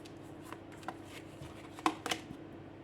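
Tarot cards being handled and laid down on a table during a reading, with soft slides, taps and flicks, a sharper snap near the end, close and quiet, with no voice.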